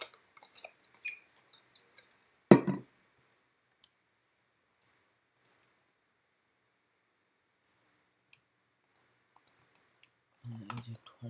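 Computer mouse clicks come in short, sparse bursts, some single and some in quick pairs, close and crisp against near silence, with one louder knock early on and a cluster of clicks near the end.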